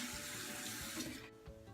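Water runs steadily from a tap to wet a makeup pan, a continuous close splashing flow that fades slightly toward the end, with no voices.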